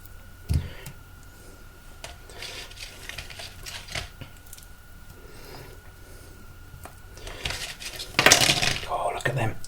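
Sticky Asian BBQ lamb ribs are split apart in a kitchen, with metal utensils clinking and scraping against a dish in scattered taps, then a louder clattering burst near the end, while someone talks quietly.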